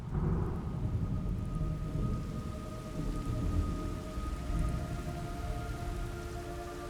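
Steady heavy rain pours down with low rumbling thunder rolling underneath in the video game Metal Gear Solid Delta: Snake Eater, a dense, continuous wash of storm noise with no voices.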